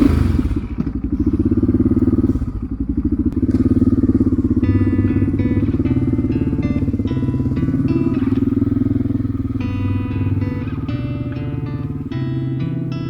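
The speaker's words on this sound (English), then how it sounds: "Let's go for a motorcycle ride." Motorcycle ridden through the rain, a loud steady engine drone with rumbling road and wind noise, thumps and clatter, and shifting pitch as it rides on, up close with no talking.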